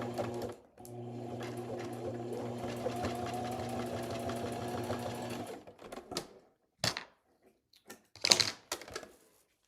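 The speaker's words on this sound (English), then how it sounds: "Machine stitching through the seam on the right edge of the page protector." Sewing machine stitching through a plastic page protector seam in a steady, rapid mechanical hum for several seconds, then stopping, followed by a few short clicks and rustles.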